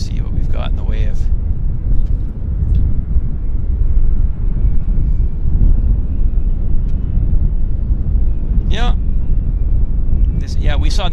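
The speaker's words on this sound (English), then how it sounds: "here's our United arrival from the other side, actually." A United airliner arriving at Vancouver Airport, heard as a steady, fairly loud jet roar with some wind noise, while a person talks over it throughout.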